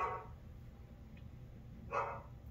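A dog barking at a mysterious basement door in the horror movie Aftermath, two short, faint barks spaced about two seconds apart.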